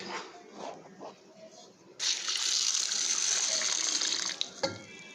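Water gushes steadily from a tap over soaking lentils and dried chillies for several seconds, preceded by a voice talking, then ends abruptly with a small clink.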